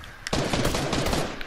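A heavy sniper rifle fires in a battle royale video game, giving a loud, booming blast with a long tail, then a second sharp shot right at the end.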